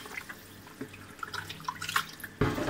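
Water from a tap runs and drips while fish are washed for making Philippine-style salted fish, with splashing and trickling that swell into a louder gush at the end.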